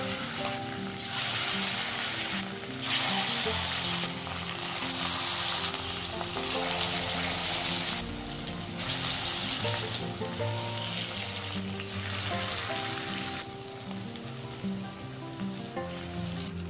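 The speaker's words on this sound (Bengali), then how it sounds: "মিডিয়াম টু লোয়েতে গ্যাসের আঁচটা রেখে চিকেনগুলোকে হালকা লাল করে ভেজে নিচ্ছি।" Marinated chicken fries in plenty of white oil in a wok over a medium-low gas flame, a close, continuous sizzle that swells and eases in waves as the pieces are stirred.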